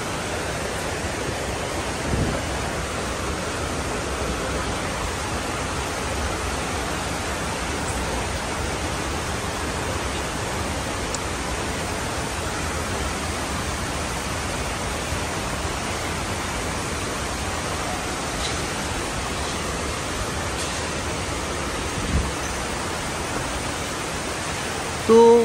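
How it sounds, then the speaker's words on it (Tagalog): Heavy rain pours at Sentosa in Singapore, a steady broadband hiss and roar that runs unbroken for the full length, with a few faint knocks and a short sharp sound near the end. "malakas ang ulan."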